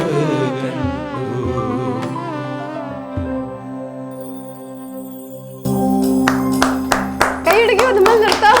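An audience claps during a song performance, with a burst of close, crackling hand claps breaking in over sustained singing and musical tones partway through.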